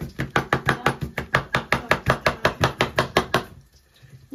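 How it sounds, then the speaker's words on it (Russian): Knife chopping vegetables into thin slices on a cutting board: about twenty quick, evenly spaced close knocks in a steady rapid rhythm, then stopping, with no talk. "Первым делом мы нарезаем наши овощи."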